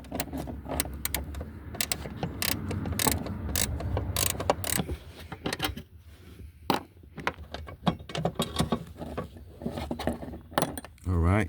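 A hand ratchet backs out two 12mm bolts on a 1.8L Honda Civic during fuel pump replacement, giving quick clicking bursts with metallic clinks and handling knocks, close and moderately loud.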